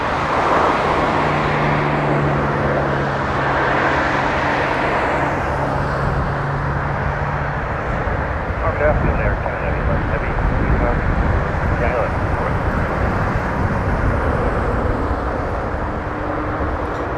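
A jet taking off at Toronto Pearson airport, a broad engine roar that builds and holds for the whole stretch, moderately loud and steady, with a radio voice talking over it.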